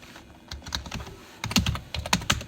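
Keys clack on a computer keyboard as a MySQL ALTER command is typed, a short burst of close, crisp keystrokes with a brief pause before a quicker, louder run.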